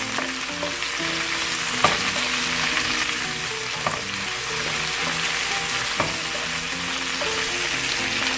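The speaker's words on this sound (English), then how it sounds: "red capsicum, green capsicum, tomato, and mix it." Chilli chicken stir-frying with red and green capsicum and tomato: a loud, steady sizzle runs throughout, with a few sharp utensil clacks and a faint tonal backing beneath.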